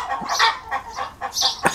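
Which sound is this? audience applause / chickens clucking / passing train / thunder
chickens clucking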